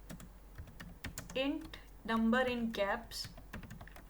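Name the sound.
typing Java code on a computer keyboard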